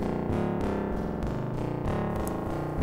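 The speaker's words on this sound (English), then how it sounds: "Even sounds kind of like a spring reverb." A Neutron Sound Dust of Time synth module produces dense, distorted tones that sustain with a metallic, resonant decay like a spring reverb, continuous and steady without any speech.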